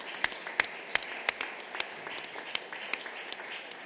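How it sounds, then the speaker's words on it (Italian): A conference audience at an Italian ESG asset-management event gives the speakers a round of applause. Clapping is scattered and fairly sparse, with a few sharp, distinct hand claps standing out above a softer wash of applause throughout. "facciamoci un applauso"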